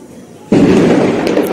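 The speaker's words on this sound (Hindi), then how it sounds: "हाँ पटाखे भी शुरू हो गया भाई" Diwali firecrackers burst into a loud, sustained crackling roar at dusk, starting abruptly after a quieter moment and continuing densely with voices around.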